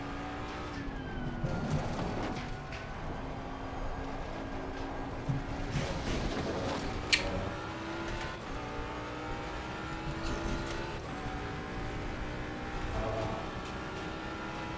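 A race car laps a track in Assetto Corsa Competizione, its engine droning steadily and rising and falling with gear changes and occasional tire squeal, continuous at moderate volume without talk.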